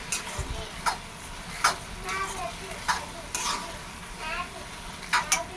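Spoon stirring sugar into a pan of semolina kesari, a series of soft scraping strokes with brief clinks against the vessel, close and moderately loud, over a faint background hiss.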